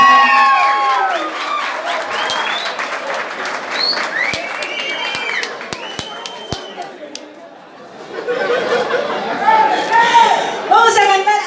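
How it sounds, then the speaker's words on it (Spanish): Concert audience applauding for a cumbia band, clapping and chatter rising loudly at the start, fading to a lull near the middle, then swelling again with cheers and voices toward the end. "Un aplauso para la banda, los chicos que vienen."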